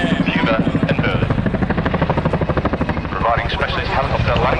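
Military support helicopter flying a demonstration at the Cosford Airshow, its rotor beating in a steady rapid thump, loud and fairly close, with a voice talking over it throughout.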